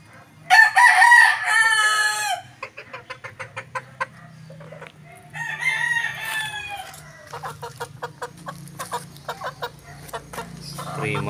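Three-month-old roosters crow loudly up close, one after another, amid steady clucking from a group of chickens, with a low hum in the background.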